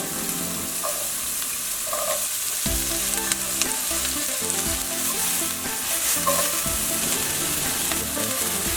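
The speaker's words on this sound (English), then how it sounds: "we're gonna add some light olive oil. Then we're gonna add our onions and cook until it's softened" Onions sizzle and fry in light olive oil in a pan, a steady close hiss that carries through the whole stretch, with the occasional faint stir or scrape.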